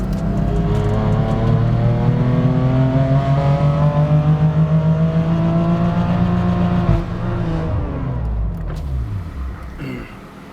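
A BMW M3 F80 running an ethanol flex fuel map on a dyno, its engine holding a loud sustained high-rpm roar that climbs in pitch and then cuts off and winds down, heard close up.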